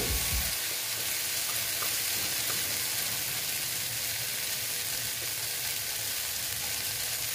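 Okra and egg fry in oil in a pan, a steady close sizzle with a hissing, crackling texture that holds evenly throughout with no talking.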